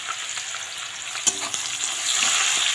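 Chopped onion hits hot oil already seasoned with bay leaf and black cumin, giving a steady close sizzle with a few sharp scraping clicks as it is stirred.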